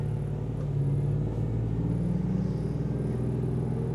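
Vice Grips' truck rolls steadily down the road, a low continuous engine and tire rumble filling the cabin with no voices, its drone holding even and close throughout.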